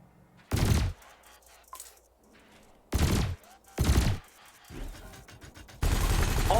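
Spaceship weapons in Elite Dangerous fire at floating canisters during a combat tutorial, several loud separate bursts with quiet gaps between them, and faint talk in the pauses.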